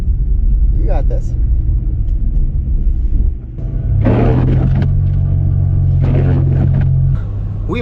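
Car engine revving hard as it tries to pull free from being stuck, a loud low rumble that surges and holds a strained higher tone for several seconds, with a person talking over it.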